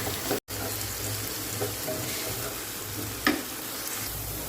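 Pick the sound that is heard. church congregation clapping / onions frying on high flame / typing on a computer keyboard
onions frying on high flame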